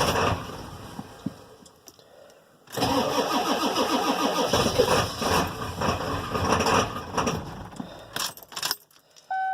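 A cold car engine cranks and fires, then is revved with light presses of the gas pedal, running loud and uneven for several seconds. Keys jangle briefly near the end as it settles.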